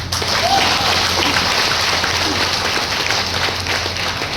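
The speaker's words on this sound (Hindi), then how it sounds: "मैं यहाँ खड़े होकर आप सब लोगों के लिए ताली बजाऊंगा" An audience at a business meeting applauds in a continuous, loud wash of many hands clapping, with a steady low hum of the hall underneath.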